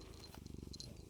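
A cat named Shakespeare Bear purrs softly and close while being cuddled, a fast steady rumbling pulse.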